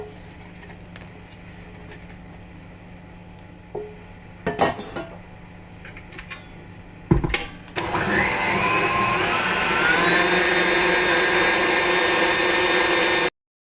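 Chocolate cake batter is mixed with butter and chocolate, starting with clinks and knocks of utensils against a bowl. Then an electric mixer starts and whirs loudly and steadily until it cuts off at the end.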